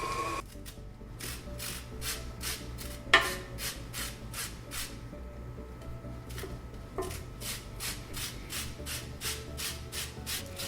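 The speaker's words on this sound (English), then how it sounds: "And then we're going to zest 1 lemon." Lemon zest being grated for pignoli cookie dough: a rhythmic series of short, crisp rasping strokes, close and fairly quiet, repeating steadily with brief pauses.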